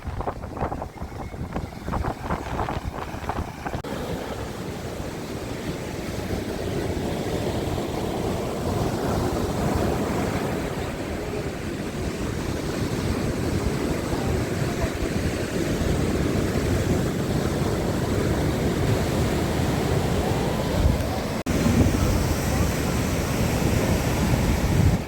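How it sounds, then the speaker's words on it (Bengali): Sea waves and wind on the Bay of Bengal shore at Digha form a continuous rushing roar of surf, with gusts buffeting the microphone throughout. "আর এই হলো আমাদের বঙ্গোপসাগর।"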